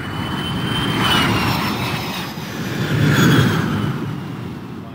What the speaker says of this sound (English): Sound like planes.